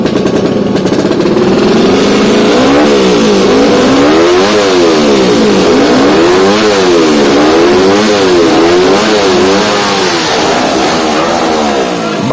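Racing motorcycles at a money-game drag race launch off the start together, engines revving hard with repeated rising and falling pitch sweeps as they shift, loud and close, running continuously for about ten seconds.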